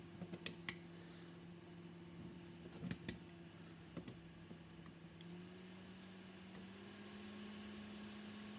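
A small lab fan for clearing solder fumes runs steadily with its pitch climbing as the power is turned up toward 12 volts, a continuous hum broken by a few sharp clicks and knocks.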